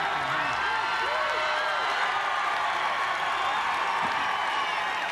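A large arena crowd at a men's team final of the gymnastics world championships roars steadily with cheering and applause, a dense, continuous wash of noise throughout with occasional louder whoops rising above it.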